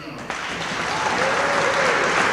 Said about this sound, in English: give a big round of applause to the officials of the matches